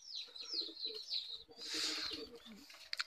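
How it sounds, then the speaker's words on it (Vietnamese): Pigeons kept at a highland house in Northwest Vietnam coo softly in repeated short calls, followed by a brief rush of wing flapping and a few chirps, quiet and near. "nhà nuôi được vài con chim bồ câu"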